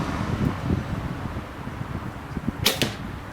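A single shot from a Prime Logic compound bow without a stabilizer, a sharp snap and brief twang at close range over steady wind-like background noise.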